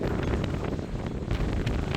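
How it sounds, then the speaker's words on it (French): Strong, roaring wind buffets the microphone during a thunderstorm in the Belledonne mountains, a continuous loud, rumbling gusting with no pauses. "Le vent, c'est infernal."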